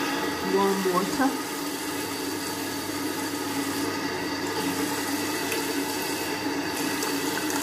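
Warm water runs steadily from a tap during a charcoal-mask skincare routine, a constant hiss lasting the whole stretch, with a brief voice-like sound near the start.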